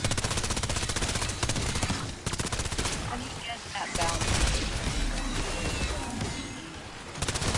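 Rapid automatic gunfire in the Call of Duty video game, dense repeated bursts nearly filling the stretch with brief pauses, loud and close, with a voice talking underneath.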